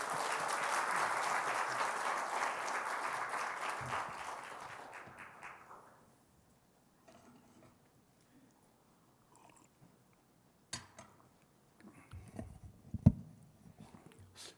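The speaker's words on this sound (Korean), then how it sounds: "우리 박수로 환영하겠습니다." A church congregation claps to welcome a visiting pastor, with dense, steady applause that fades out after several seconds, followed by quiet room sounds and a few scattered thumps.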